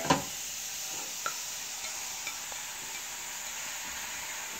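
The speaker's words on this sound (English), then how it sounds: "we're going to get our ground beef into the pan" Ground beef seasoned with Lawry's seasoned salt and pepper frying in a pan, a steady close hiss of sizzling broken by a few light stirring clicks, with no voices.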